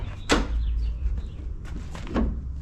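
Doors are being removed from a 1979 Jeep CJ-7 with a 304 V8, giving two sharp metallic clunks about two seconds apart, with some handling rattle between them.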